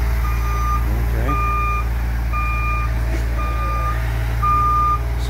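A road repair truck backs up with a loud, regular reversing beeper, evenly spaced electronic tones sounding over a low steady diesel engine rumble.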